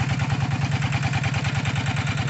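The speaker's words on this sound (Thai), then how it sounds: "ก็ใช้รถไถเดินตามไถ" A three-disc-plough walking tractor engine chugs steadily nearby while ploughing a cassava field, its single-cylinder thump repeating in a fast, even rhythm.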